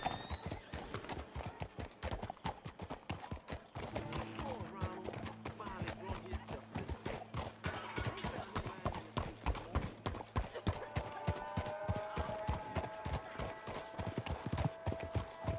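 Horse hooves clip-clop at a steady galloping rhythm throughout, with a whinny and background game music in a video game; a voice speaks briefly over the hoofbeats.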